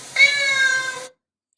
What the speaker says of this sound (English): This is a cat who wants to get past the door, and he says meow like this.